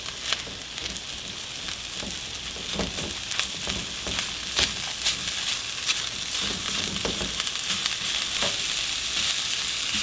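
Blackened corn and broccoli frying in a hot wok while being stirred, a loud, continuous close sizzle with scraping and clacking of the utensil against the pan throughout.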